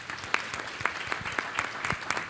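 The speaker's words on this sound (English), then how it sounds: "Let's give them a big round of applause" Audience at a food insecurity panel applauding the panelists, a dense patter of many hands clapping with sharp individual claps standing out, moderately loud and close.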